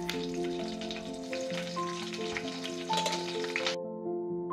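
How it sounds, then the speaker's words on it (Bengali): Black cumin seeds and two slit green chillies sizzle in hot oil for a fish curry, a steady crackling hiss running throughout beneath a sustained musical tone, stopping abruptly near the end. "এবার দেখি এই তেলের মধ্যে একটু কালো জিরে ফোড়ন দিয়ে দিচ্ছি, আর 2টো কাঁচা লঙ্কা চিড়ে নিয়ে আমি দিয়ে দিলাম।"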